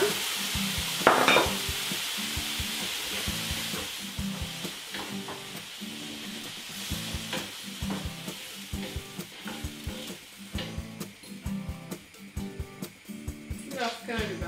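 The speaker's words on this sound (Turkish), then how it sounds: "Şimdi bu soğanı ve sarımsağı kavururken içine biraz biber, biraz da domates salçası ekleyeceğim." Onion and garlic frying with pepper and tomato paste for fellah köftesi, a steady sizzle in a pan with rhythmic stirring scrapes, a voice talking over it at times.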